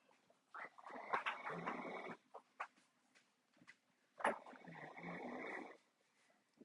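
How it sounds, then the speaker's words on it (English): A man snoring loudly while asleep, with two long, harsh, rasping snores rising and falling in a slow rhythm and quieter snorts between them, close by and with no talk over them. "I hope you guys can't hear my husband snoring in the background."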